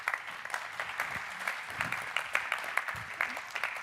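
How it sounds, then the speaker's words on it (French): Quiet applause from an audience at an awards night, a fairly soft, distant patter of clapping that carries on steadily, with a few faint voices mixed underneath. "Je pense que vous pouvez vous applaudir là-dessus."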